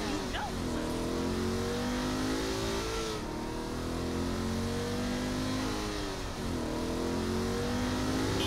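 Video game car from Saints Row The Third driving with its engine revving in rising and falling sweeps, loud and steady throughout, with brief shifts around the middle and near the end.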